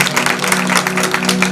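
An audience at a Hindu devotional jagran claps together for their parents in a dense, steady burst of applause, loud and close throughout.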